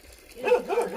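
Dog Kalu barking at fighting monkeys in a field, a few quick yappy barks close by.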